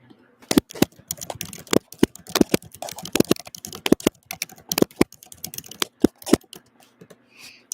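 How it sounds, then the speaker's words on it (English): Quick, irregular keystrokes on a computer keyboard, close and crisp, clicking in uneven bursts with short pauses in a quiet room. "I'm just typing in and pinning the title of this class today"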